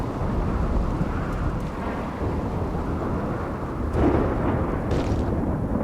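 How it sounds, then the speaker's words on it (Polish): Thunderstorm ambience in the colony-building game RimWorld, a continuous low rumbling roar of thunder and wind with a stronger swell near the end, no talking. "Mamy kolejny burzowy dzień"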